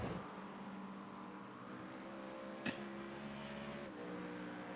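GT3 race cars in iRacing drag racing side by side to the finish line at Daytona: a loud, steady engine roar at high revs fills the whole stretch, with one brief sharp burst partway through and no voices.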